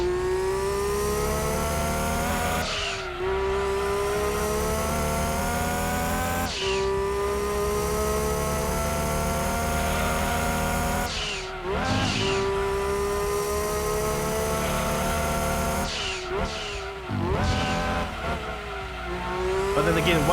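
A race car engine in Gran Turismo 2 on PS1 screams up through the gears, rising in pitch repeatedly with sharp drops at each shift, loud and close, with occasional tire squeal.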